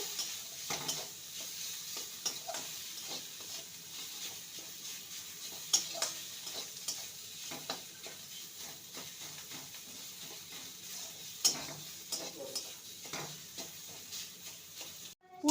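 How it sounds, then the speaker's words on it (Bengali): Mashed boiled potato with spices being stirred in a frying pan for kachori filling, soft scraping stirs and intermittent spatula knocks over a faint low sizzle, fairly quiet throughout. "সেদ্ধ আলু ম্যাশ করে নিয়েছি সেটা দিয়ে দেবো ভালো করে নেড়ে নেবো"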